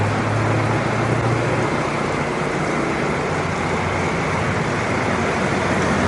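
Steady, dense wash of motor traffic at an intersection with no traffic light in Saigon (Ho Chi Minh City), Vietnam, engines droning continuously and loudly with no horn honking and no talk.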